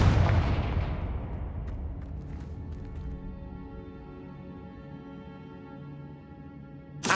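Confringo spell blast in the Hogwarts Legacy video game: one loud booming explosion that rolls off into a long ringing decay, then another sharp burst at the very end.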